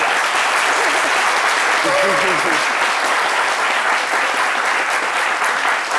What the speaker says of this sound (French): Je pense qu'on peut applaudir.